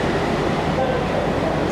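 A fast passenger train on the Amritsar to Ajmer route runs through a station, producing a loud, continuous rolling rumble and roar with no distinct gaps.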